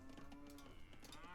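Cow mooing in the Age of Empires II video game, a single short moo heard over game background sounds.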